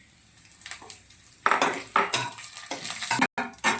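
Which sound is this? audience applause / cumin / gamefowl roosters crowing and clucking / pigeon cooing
cumin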